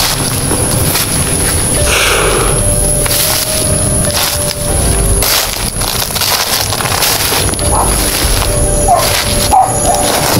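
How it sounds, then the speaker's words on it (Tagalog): A few dog barks come from some distance, partly buried under loud, rough wind and handling noise on the microphone. "May aso to. May baso dito sa malapit. May aso eh."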